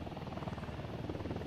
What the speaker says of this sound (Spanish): Un helicóptero.